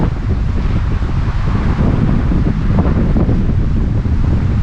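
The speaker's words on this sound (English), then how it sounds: "we're coming into a windy landing" Strong wind buffets the microphone during a windy canoe landing on a wilderness lake, a loud continuous low rumble with gusty surges and faint wave wash beneath.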